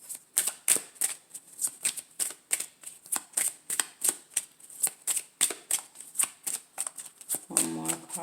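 Tarot cards being shuffled and drawn: a steady run of crisp riffling, snapping bursts, near and continuous, with a brief voice near the end.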